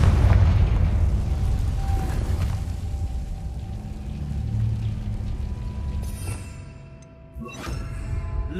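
A Confringo blasting spell goes off in Hogwarts Legacy, producing a sustained, loud, low rumbling explosion that dips briefly near the end and then swells again, with sharp crackles layered on top.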